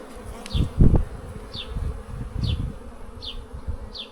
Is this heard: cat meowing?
no